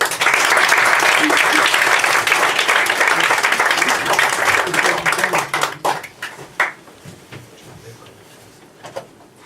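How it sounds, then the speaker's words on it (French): A studio audience applauds a new contestant on a French game show, loud sustained clapping that thins out and fades into scattered claps toward the end. "je vous demande d'applaudir un monsieur"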